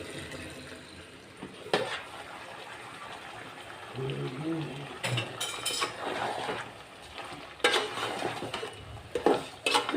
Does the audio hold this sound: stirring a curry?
yes